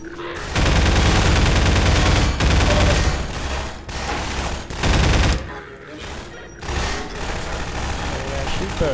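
Rapid bursts of gunfire from a firefight in the video game Half-Life 2, loud and close, with several sustained volleys separated by brief pauses and a few quieter gaps.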